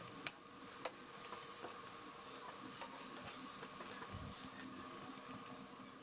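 Sweet potato donuts fry in oil over a medium-high flame, giving a steady, close sizzle with a few sharp pops scattered through it and no talking.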